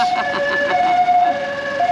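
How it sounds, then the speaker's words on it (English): An ambulance siren on a street in Thailand, a loud wailing tone rising and falling steadily, with traffic rumble beneath it. "Ambulance."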